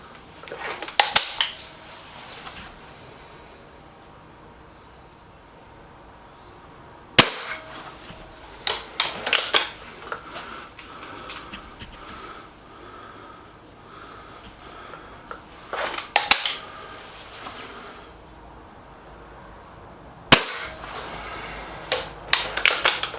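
SMK XS36 air rifle firing at a target, four sharp isolated cracks spaced several seconds apart, each followed by a brief metallic ring, with quiet room noise between shots.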